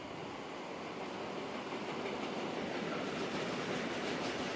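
Freight train in Switzerland carrying swap bodies between distribution hubs, rolling past on the rails with a steady loud rumble and wheel noise lasting throughout, no voices.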